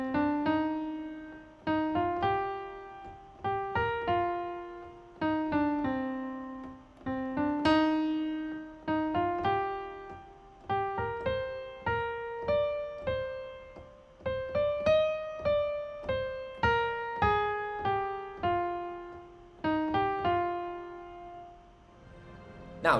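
Solo piano plays the right-hand melody of a theme, a clear, close single-line tune of distinct struck notes in a steady, phrased rhythm with short pauses between phrases.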